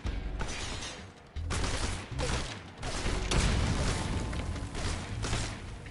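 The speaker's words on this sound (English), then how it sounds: "I love how they're shooting at nothing." Enemies firing guns in a video game, a dense run of loud overlapping bursts and rattling shots through the whole stretch, with brief gaps between volleys.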